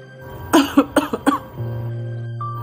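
A short burst of four or five harsh coughs from a persistent cough, in quick succession, close and loud, followed by quiet with a faint background hum.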